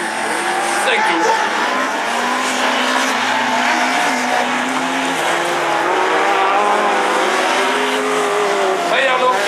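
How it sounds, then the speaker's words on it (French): Rallycross cars race at Dreux in a semi-final, with several engines roaring and revving continuously and tyres squealing at a distance, all under constant race commentary. "Éric Guillemette prend le tour joker"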